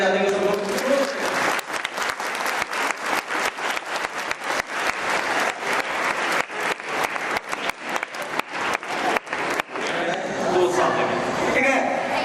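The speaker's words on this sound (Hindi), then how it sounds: "तो एक बार चेयरमैन सर के लिए ताली बजा देंगे सब लोग।" A seminar audience breaks into loud, sustained applause for the chairman, dense clapping that runs for several seconds and then thins out, with some voices mixed in.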